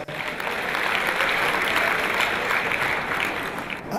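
A live comedy show audience claps in a dense, steady burst of applause that holds at full strength for several seconds before tapering at the end.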